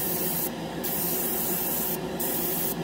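A GSI Creos Procon Boy SQ single-action airbrush sprays primer as a close, continuous airy hiss, broken by two brief sharper bursts of air.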